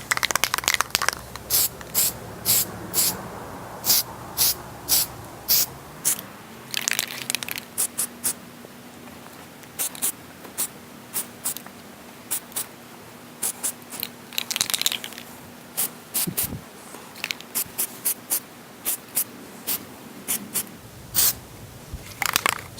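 Spray can laying down flake paint on a mini bike part in short, sharp hissing bursts. The gaps between bursts are uneven, and a faint steady hum sits underneath.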